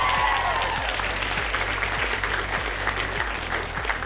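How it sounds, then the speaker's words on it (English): Steady, dense applause from a school audience of girls fills the whole stretch, loud and sustained with a low rhythmic thumping beneath, and no talking over it. "Give her a round of applause, everyone."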